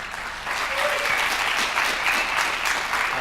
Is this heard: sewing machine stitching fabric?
no